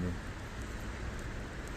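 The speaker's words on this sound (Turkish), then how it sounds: "İnceden yağıyor." Light rain falls outdoors at Charlottenburg Palace in Berlin in a soft, steady hiss, a continuous quiet patter with no distinct drops standing out.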